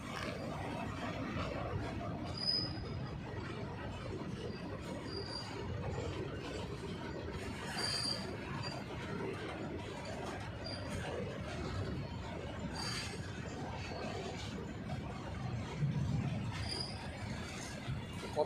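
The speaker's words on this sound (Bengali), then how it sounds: "দেখো ট্রেনটা দেখো কেমন দেখতে দেখতে কেমন যাচ্ছে দেখো" A long, empty goods train passes a station platform, giving a faint, continuous rolling rumble with soft intermittent clanks and squeaks of wagons going by at some distance.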